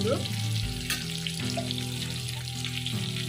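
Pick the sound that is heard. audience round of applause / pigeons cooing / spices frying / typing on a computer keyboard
spices frying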